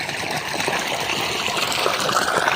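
Irrigation water rushes strongly through a field channel in a farm plot, a loud, steady, continuous wash of flowing water with no pauses and no voices.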